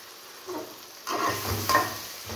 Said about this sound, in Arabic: دي البصلة اهي خرطناها اهي، نشوحها كده نص تشويح